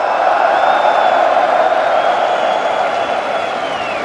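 A packed esports arena crowd at the PGL Major Antwerp CS:GO grand final roars in a loud, sustained wall of cheering and whooping that fades slightly toward the end.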